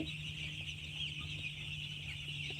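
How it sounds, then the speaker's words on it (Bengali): Chickens on a poultry farm cluck softly, with faint low clucks over a steady background hum and a constant high buzz. "মুরগি হালকা আওয়াজ করছে"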